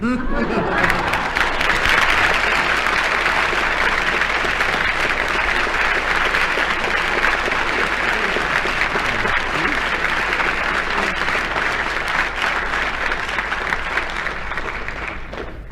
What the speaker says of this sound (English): by your applause, I think Denis's story wins, so he gets the mark.